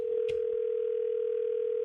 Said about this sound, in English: So let me call the cell phone.